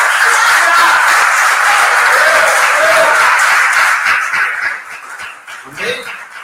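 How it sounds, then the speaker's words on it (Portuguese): A church congregation applauds after a Portuguese sermon, loud sustained clapping that thins out and fades toward the end while voices mix in. "Vamos aplaudir o Senhor"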